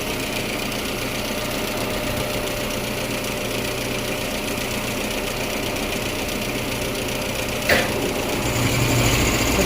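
A 2007 Ford Fusion engine idles with its A/C compressor engaged, giving a steady, loud mechanical hum with a fine rapid ticking running throughout, one brief click near the end, and a slight rise in level just after.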